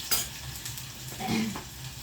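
A short burst of mustard seeds spluttering and hot oil spattering in a pan, close up, with a brief metallic scrape and no talking.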